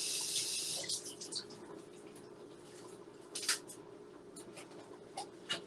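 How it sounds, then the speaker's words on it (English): Broccoli is rinsed under a running kitchen tap, a brief hiss of flowing water followed by soft splashes and handling noises at low level. "Wash this off."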